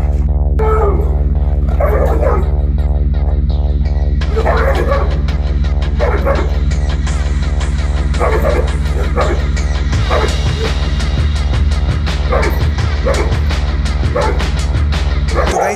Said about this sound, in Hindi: तो सिम्बा बेफिक्र होकर भौंक रहा है।